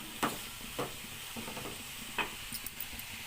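Onions salted and frying in a pan for a fenugreek tamarind stew, a low steady sizzle broken by a few spaced stirring scrapes, close and fairly quiet.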